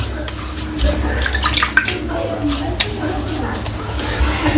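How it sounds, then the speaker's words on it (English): Warm tap water runs and splashes close up at a bathroom sink as a face is wetted before a shave with a Muhle R89 razor, giving a continuous watery rush with irregular splashes. "I'll wet the face first. I'm using warm water today"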